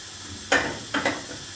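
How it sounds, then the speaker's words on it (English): Soft sizzling hiss from homemade soup in a pan, rising in two short bursts over a quiet background, with no voices. "So beginning to sizzle a little bit."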